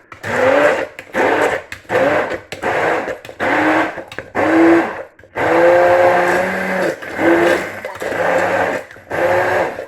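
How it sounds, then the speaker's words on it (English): A blender purees blackberries for a coulis, its motor whirring loudly in repeated short pulses with brief pauses between bursts. "So let the blender do the work."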